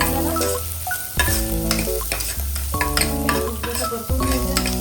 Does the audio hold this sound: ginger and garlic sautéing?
yes